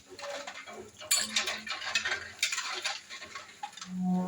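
Brass utensils scrubbed with tamarind are rinsed with water at an outdoor tap, with close metallic clanks, scrapes and clatter of pots and plates shifting in bursts and a low ringing tone near the end.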